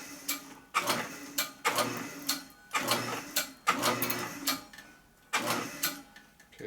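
Power tap cutting threads into a hole at low speed on a 2001 Gilroy Indian motorcycle rebuild: repeated bursts of mechanical whirring in roughly five evenly spaced pulses, each a second or so long, with brief quiet gaps between, close by.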